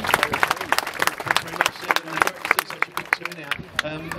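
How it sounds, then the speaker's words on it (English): Crowd at an Adelaide shark-protection rally claps for an arriving speaker, sharp scattered claps in an uneven patter mixed with talking and crowd noise throughout. "So let's give him a round of applause"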